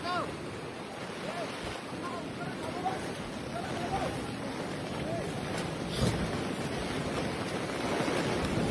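Water flows and laps steadily in a continuous, moderately loud wash, with a faint voice in the background.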